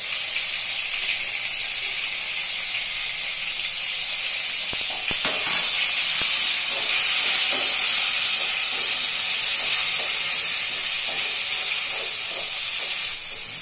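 Onion paste with cinnamon stick frying in hot oil for an aloo matar curry: a steady, loud, hissing sizzle that swells slightly midway, with faint crackles and no voices.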